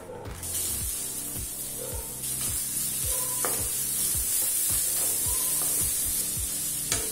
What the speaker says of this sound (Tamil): அடுத்து பொடியா நறுக்குன 2 பெரிய வெங்காயம் சேர்த்துக்கலாம்.